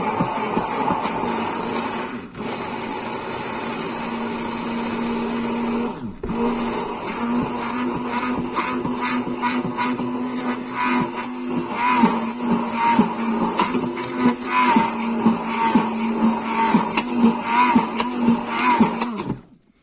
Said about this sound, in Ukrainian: не можна виключати блендер і не можна його різко піднімати вверх-вниз, тільки треба по дну, щоб почало густішати і підливати потрошки олій